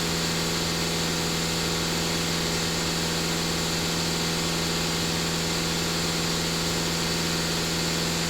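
Skoda Octavia 2.0 TDI diesel engine idling, a steady close hum with a constant low drone and faint vibration, unbroken for the whole stretch with no talking.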